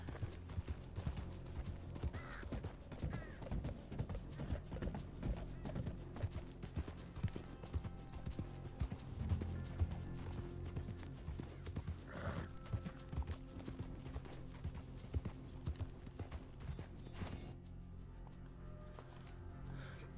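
Horse hooves galloping in Red Dead Redemption 2, a rapid, steady rhythmic drumming of hoofbeats with occasional creaks and a whinny, heard under game sounds for about twenty seconds.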